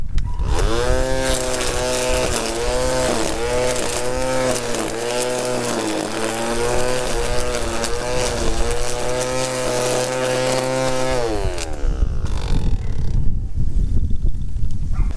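A 20-volt lithium-ion battery string grass trimmer cuts grass around a tree, its motor whining loud and close with a steady pitch that wavers under load, then cuts off near the end.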